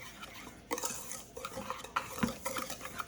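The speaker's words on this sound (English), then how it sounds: "I like to whisk it all together to make sure it's fully incorporated" Gluten-free flour blend whisked with sugar, baking powder and salt in a bowl: quick, close scraping and tapping strokes of a whisk against the bowl in an irregular rhythm.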